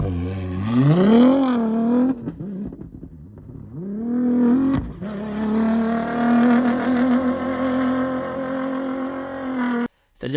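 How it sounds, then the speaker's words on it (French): A Dakar rally car approaches and passes, its engine note rising and holding steady at high revs before a brief cut near the end; the engine sounds loud and close. "je crois qu'il y a une voiture aussi qui arrive."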